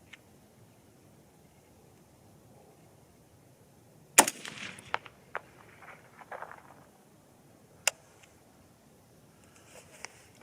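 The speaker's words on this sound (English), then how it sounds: "All right, third shot." A single sharp rifle crack from a .243 Win factory load fired outdoors, followed by a few lighter metallic clicks and clatter, then quiet.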